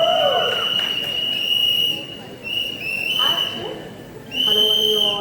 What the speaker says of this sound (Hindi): सीटियां बंद करिए प्लीज।